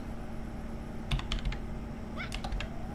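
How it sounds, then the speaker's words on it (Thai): A command is typed on a computer keyboard during a game, with two short bursts of quick key clicks close by over a low steady hum. "พิมพ์คำว่า slash คำนับ"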